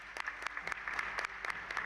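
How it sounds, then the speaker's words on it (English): Applause from the audience at a graduation and induction ceremony, a steady moderate wash of many hands with small bursts of sharper claps running throughout. "Let's give them another round of applause."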